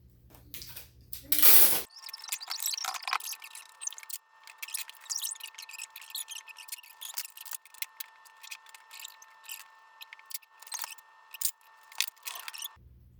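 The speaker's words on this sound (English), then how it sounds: "you just want to make sure that you tape along all the edges that are open like this" Packing tape being pulled and pressed along the open edges of a cardboard shipping package for an 11x14 watercolor painting, with a loud rip of tape at the start followed by close crinkling, tapping and rubbing noises.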